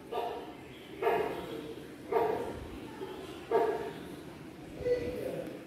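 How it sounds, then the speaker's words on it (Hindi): A great hornbill's recorded call plays from a push-button exhibit in a museum in Dogadda range, Jim Corbett, Uttarakhand: harsh, barking honks repeating about once a second over steady room noise. "अभी मैं ग्रेट हॉर्नबिल के पास में लगे हुए बटन को पुश करूंगा तो इसकी साउंड सुनते हैं।"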